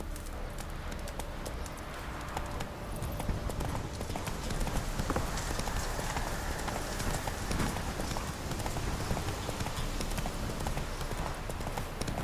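Roach the horse galloping in The Witcher 3, a rapid, steady clip-clop of hooves running continuously, close and loud, with a bed of ambient game sound underneath.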